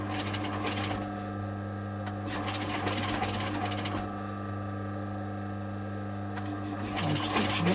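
A machine stitches a leather pouch face to face, running in steady mechanical bursts over a constant low motor hum, close and moderately loud, with no talking.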